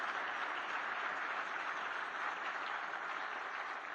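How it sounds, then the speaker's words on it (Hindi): Steady, dense applause from an audience at a public function, held at an even level throughout with no break and no voices over it. "सभी लोग जरा जोर से गौतम भाई के लिए ताली बजाइए जरा।"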